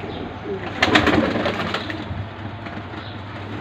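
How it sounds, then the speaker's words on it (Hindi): Pigeons coo softly nearby amid a low background hum, with a brief flurry of rustling or flapping in the middle. "ये कबूतर मैं आपको बाहर भी छोड़ के दिखा देता हूँ"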